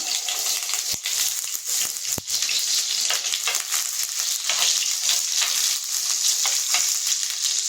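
Oil and butter sizzling and crackling loudly in a tray, a dense continuous frying hiss close up, with a few brief knocks near the start.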